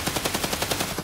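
Automatic gunfire in Escape From Tarkov, a rapid, even burst of about eleven loud, close shots in roughly one second, with no talk over it.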